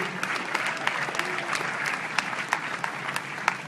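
An audience at a business event bursts into steady applause, a dense, continuous wash of many hands clapping with a few sharper claps standing out and no clear boos.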